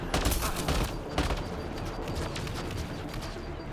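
Rapid bursts of gunfire crackle in close succession during a sci-fi shooter battle in Mass Effect Andromeda, loud and dense at first, then thinning into scattered shots with faint game ambience behind.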